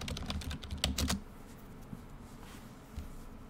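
A brief burst of computer keyboard typing as a git command is entered, quick quiet key clicks up close that fade into near silence afterward.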